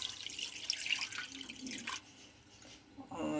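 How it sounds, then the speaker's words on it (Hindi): Water pours into a cooking pot for breakfast potato curry, a steady close splashing and trickling stream that eases off and then picks up again near the end, with no talking. "तो मैं सबसे पहले इसमें पानी ऐड कर रही हूँ"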